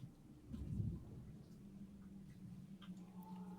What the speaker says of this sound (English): Thunder for real, Nurse Wiggles.